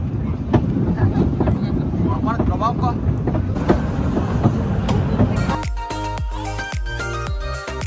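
Ride-on train moving slowly at the Accoland amusement park, a low rumbling roll that turns into rhythmic metallic clicking and clattering, with faint voices underneath.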